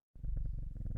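A cat in the video game Strange Horticulture purrs while being petted, a steady low rhythmic rumble that starts abruptly and pulses evenly for about a second.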